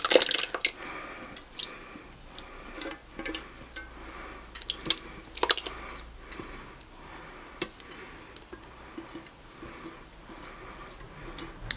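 Thick sauce still holding its ingredients pours from a pan into a pot, with wet squishing, dripping and clinking ticks scattered irregularly, close and moderately loud throughout.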